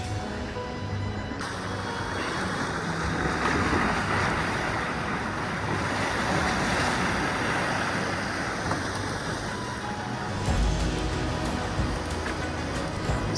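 A sailboat's inboard engine chugs at sea on the run from Bowen to Magnetic Island, a steady low drone blended with wind and water wash that holds level throughout and shifts briefly near the end.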